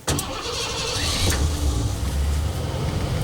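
A car that has sat unused and is low on fuel cranks and catches, then settles into a steady, close engine idle right after a brief starting burst.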